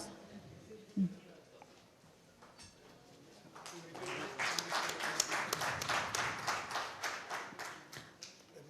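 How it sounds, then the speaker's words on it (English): Audience applause at a legal conclave felicitation ceremony swells in after a few quiet seconds with scattered taps, then builds into steady, dense clapping from many hands that carries on to the end. "Please keep the applause going"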